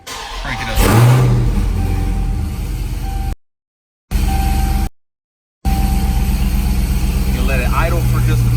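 A 2018 Dodge Charger 392 engine cranks and fires up, then settles into a loud, steady run close by, broken by two brief gaps, with a voice talking near the start.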